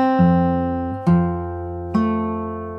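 Close, clean fingerstyle acoustic guitar picks three ringing chord strokes from a song's pattern, each attack sustaining and fading before the next, with no voice.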